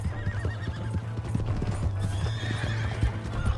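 Horse hooves clip-clopping at a steady gallop with a whinny in the Red Dead Redemption 2 game world, thudding rhythmically and close, a continuous low hum beneath.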